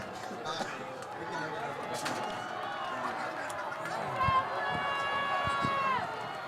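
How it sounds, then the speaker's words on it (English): Football stadium crowd at a varsity game against Pittsburg, a murmuring chatter of many voices that swells louder toward the end, under a commentator's voice, with a whistle-like tone near the close. "Crowd is getting loud up here."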